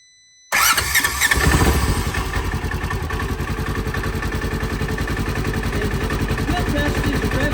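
A Polaris Ranger utility vehicle whose fault makes it rev uncontrollably and backfire cranks after a short quiet moment and catches. Its engine then runs on with a close, loud, evenly pulsing idle.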